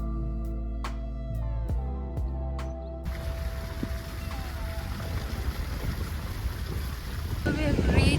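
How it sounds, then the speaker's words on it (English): Monsoon wind gusts and steady rain roar in Goa. After a brief stretch of layered music, the wind noise is loud and continuous, buffeting close to the microphone. "It's very rainy and it's very windy."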